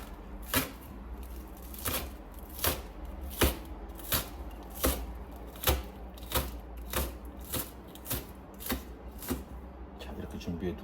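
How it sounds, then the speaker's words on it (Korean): A knife slices thinly through green onion tops on a cutting board, about a dozen crisp, evenly spaced chops close by. "파는 파란 부분을 모아가지고 얇게 썰어주면 보기가 좋습니다."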